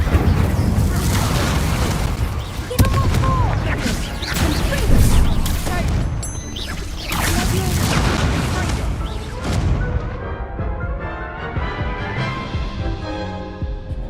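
Incendio fire spells explode in Hogwarts Legacy during a hard-difficulty fight, with repeated loud booms and crashing impacts over busy battle noise before settling into a quieter, ringing tail.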